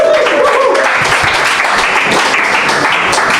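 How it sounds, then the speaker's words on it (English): Loud applause from a comedy show audience in Halle, a continuous wash of clapping with a brief tone at the start, steady to the end. "Give it up for Yannick."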